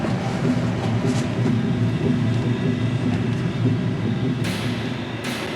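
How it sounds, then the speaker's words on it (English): A generator runs with a continuous low rumbling drone, steady and fairly loud, with faint rattles and a couple of brief hissing bursts near the end. "it's a generator that kicked on"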